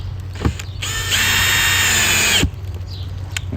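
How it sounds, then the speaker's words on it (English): DeWalt power drill on a low clutch setting tightening screws into a mounting plate, a short steady whir of about a second and a half between a couple of clicks, close and loud. "I'm going to go down to a 1 setting on this DeWalt. And I'm just going to tighten these down."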